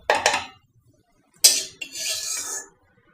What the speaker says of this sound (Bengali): এখন আমি এইটা প্লেটে উঠাই নিচ্ছি।